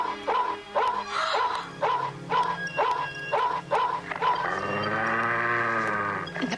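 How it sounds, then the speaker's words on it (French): Dogs bark in a steady string of sharp, close, loud yaps, ending in a long, wavering howl that carries to the end. "Soyez gentils, les chiens!"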